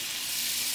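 Onion frying in a hot pan while vegetable soup with tofu is cooked, giving a steady, close, broadband sizzle that holds evenly through the short moment with no talking.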